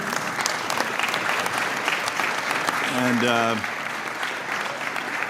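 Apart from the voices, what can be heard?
applause in committee hearing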